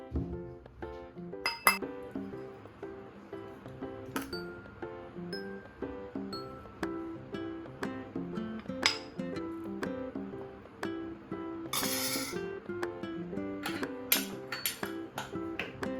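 A metal puttu vessel clinks and rattles against a pressure cooker as it is set inside for steaming Kerala puttu, giving scattered bright metallic clinks and taps, close and fairly quiet.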